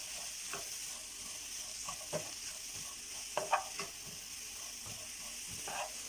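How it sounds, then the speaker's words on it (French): Carrots cook in a pan with salt, a quiet continuous sizzle broken by soft scraping stirs of a utensil at irregular intervals. "je vais faire cuire les carottes de sorte qu'elles ne soient pas trop cuites ni trop dures"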